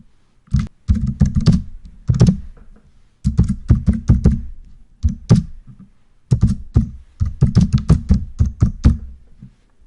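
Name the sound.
typing a report title on a computer keyboard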